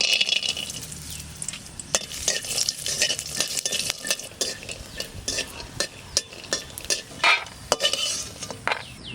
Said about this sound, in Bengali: সামান্য একটু তেল দিচ্ছি। এই বাদাম কটা ভেজে রাখবো।